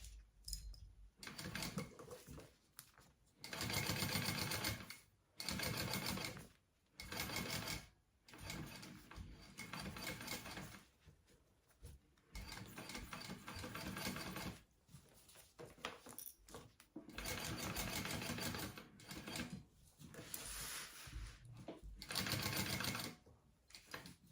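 A sewing machine stitches a mini backpack in bursts of rapid whirring, stopping and starting several times with short pauses, close and clear.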